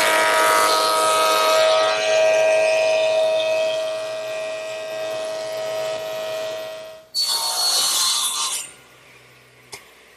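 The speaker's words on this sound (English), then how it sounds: "since I have a thickness planer here at the shop" Thickness planer feeding cherry boards in a woodworking shop gives a loud whining tonal drone for several seconds, then cuts off abruptly, followed by a short burst of rushing noise as it spins down.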